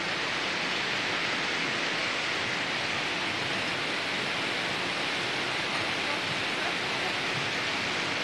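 The Khoshkh river rushes through the Ashtarak valley in Armenia, a steady broadband roar of flowing water heard close and unbroken throughout.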